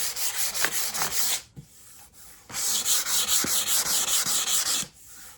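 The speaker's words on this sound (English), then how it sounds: "the next one we're going to take is some 400 sandpaper, and we're just going to use that to clean up the rest of it" Guitar paint is sanded by hand with 400 grit sandpaper. The close, dry rasping comes in two bursts of rapid back-and-forth strokes with a short pause between them, and no voice is heard.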